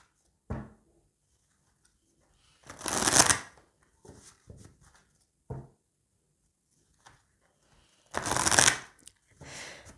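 Oracle cards shuffled for a love reading: two loud riffling bursts a few seconds apart, with softer card taps and handling noises in between, close by.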